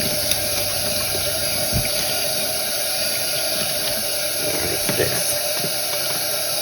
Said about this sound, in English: So I'm just going to rinse this through.